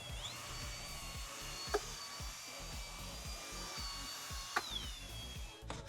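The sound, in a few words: drill brush scrubbing carpet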